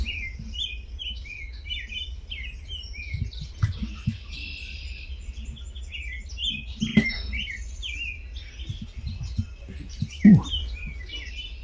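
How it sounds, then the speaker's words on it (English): Bright American robin and red-winged blackbird songs, trills and whistles repeating in the distance during a dawn chorus, over a low background rumble, with a few louder knocks and thumps. "American robin, red-winged blackbird."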